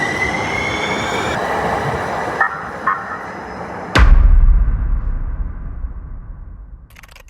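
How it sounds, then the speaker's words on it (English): A San Diego trolley rolls along the rails, a steady metallic rumble with squealing wheels, then a sudden heavy thump and louder close rumble that gradually fades as the car passes. "we had to catch the trolley, which is like the metro"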